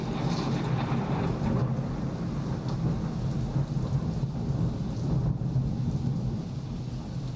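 Steady heavy rain with a continuous low rumble of thunder from a thunderstorm outside, filling the whole stretch evenly without any talk.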